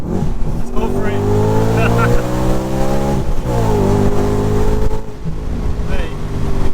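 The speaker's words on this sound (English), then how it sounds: "Overrun from a naturally aspirated V8." Audi RS4 B7 with a naturally aspirated V8 on overrun, its loud, close, continuous engine drone sliding down in pitch, briefly rising again, then falling away steadily.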